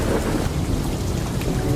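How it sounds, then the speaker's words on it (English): Loud thunder rumbles through a pouring jungle rainstorm, with heavy rain roaring steadily and continuously throughout, close and dense, with no voices. "The rain pours down in torrents, and the sound of thunder echoed throughout the jungle."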